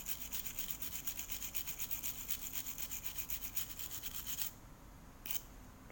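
A brush scrubs back and forth over an electrical transformer inside a Sanwa CX-506, a fast rhythmic rasping of many quick strokes at close range that stops abruptly near the end, with one brief final stroke.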